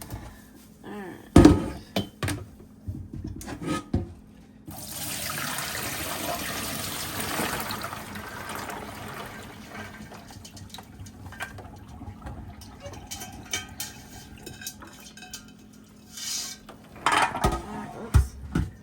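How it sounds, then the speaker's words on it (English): Soaked beans are rinsed in a strainer under running tap water, a steady broad rush and trickle lasting most of the stretch, with clattering knocks of the strainer at the start and end. "Now I'll just rinse these off."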